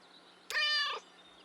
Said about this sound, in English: Distressed meow.